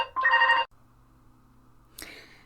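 A telephone rings in a room, one short electronic ringing burst followed by a quieter chirp a moment later, with no voices.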